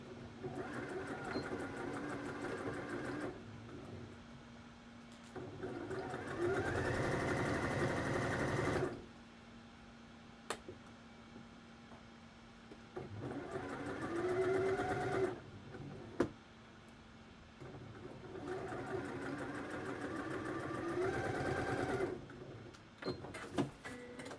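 A home sewing machine straight-stitches a dress dart at a longer stitch length, running in several whirring bursts of a few seconds each, separated by quiet pauses and small clicks.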